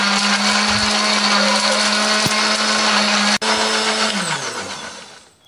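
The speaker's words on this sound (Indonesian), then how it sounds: "Kita pakai bawang merah, bawang putih, ada kunir, ada ketumbar, dan tambahkan sedikit air supaya lebih gampang untuk menghaluskannya." An electric blender grinds shallots, garlic, turmeric and coriander with a little water: a loud, steady whirring roar that holds, dips briefly, then winds down as the motor stops.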